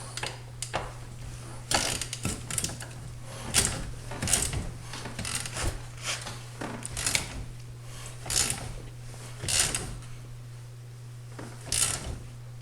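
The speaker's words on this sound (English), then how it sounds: "That impact has had its better days, so it doesn't tighten much, but it does help a bit." A worn impact wrench works on the front axle of a Yamaha 660 Grizzly ATV, firing repeated short rattling bursts in an uneven rhythm over a steady low hum, loud and close.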